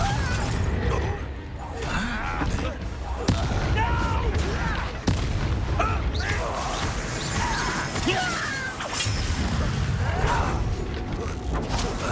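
Confringo blasting curse and other spells cast during combat in the game Hogwarts Legacy, a dense run of bursts, crashes and booms over continuous battle noise, with mechanical clatter and a few sharp impacts.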